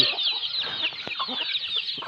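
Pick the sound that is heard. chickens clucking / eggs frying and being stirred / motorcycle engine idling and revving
chickens clucking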